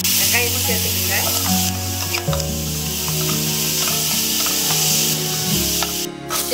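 Onions and mutton cutlet ingredients fry in hot oil, a loud, close, continuous sizzle with scraping stirring and clinks of a utensil throughout, no voice over it.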